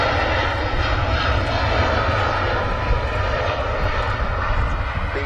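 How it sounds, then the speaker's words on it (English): Loud, continuous roar of aircraft engines at Manchester Airport, a steady close rumble filling the whole stretch with no break. "These noisy aircraft do get in the way of commentating."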